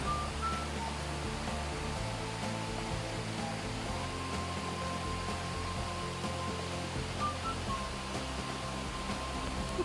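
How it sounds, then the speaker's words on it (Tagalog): Banti Falls pours with a steady, dense rushing roar of falling water that stays constant and unbroken throughout, with no voices. "At sa wakas, nahanap na rin namin ang aming hinahanap na falls."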